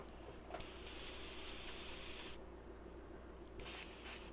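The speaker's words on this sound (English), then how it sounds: "I don't know why this isn't spraying very well." An airbrush sprays paint in two hissing bursts, one long blast of almost two seconds and then a shorter one after a pause, close and fairly loud with no voices.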